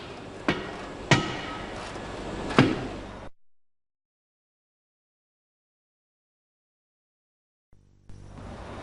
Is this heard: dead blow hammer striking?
yes